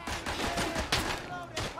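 Rapid bursts of machine gun fire in the World War I shooter Verdun, close and loud, rattling in quick repeated volleys with a player talking over it.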